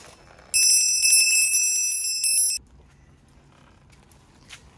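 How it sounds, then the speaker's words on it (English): A small sterling silver bell rings clearly and brightly for about two seconds, with a high shimmering tone that cuts off abruptly, followed by faint handling noise. "And a sterling silver bell."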